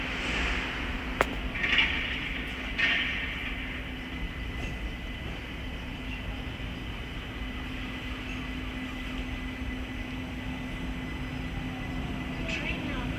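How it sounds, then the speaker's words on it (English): A London Overground electric train from Stratford to Clapham Junction runs through Willesden Junction on the West Coast Main Line, a steady rolling drone with a sustained electrical whine, brief station chimes early on and a voice talking over it. "right here is the 11:48 London Overground service from Stratford to"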